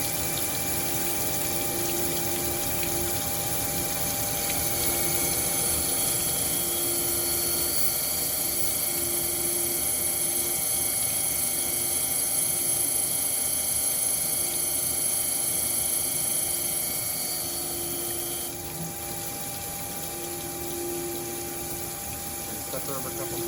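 CNC grinding machine running a wheel dress cycle and then a multi-plunge grind, heard as a loud steady mechanical hum with whining tones and a faint rhythmic pulsing. The level drops slightly near the end.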